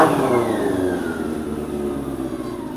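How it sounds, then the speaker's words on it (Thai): A Honda CB400 motorcycle engine runs close by, revving briefly and then settling back into a steady, even mid-pitched hum. "ฟังเสียงเครื่อง"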